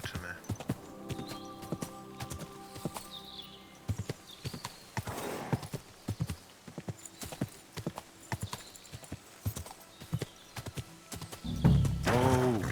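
Horse hooves clip-clop steadily at a riding pace on a path in Kingdom Come: Deliverance 2, regular close thuds with a brief snort or whinny near the end.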